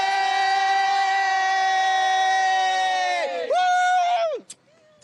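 Spain football fans celebrate a World Cup victory, a loud crowd whoop and cheer led by a sustained high shout that bends downward and breaks off, with voices fading into quiet afterward.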